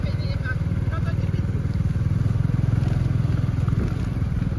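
Motorcycle ride down the airport runway in Tuvalu on a Friday night, engine droning steadily and loud throughout with rhythmic pulsing and wind noise.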